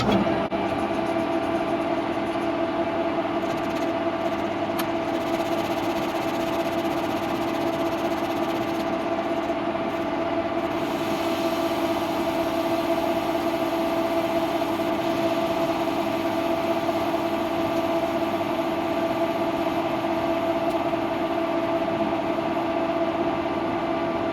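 A new lathe runs steadily at high speed turning roll center correction pins just over an inch across, dry without coolant, giving a continuous loud machine hum with strong steady tones throughout and no talk.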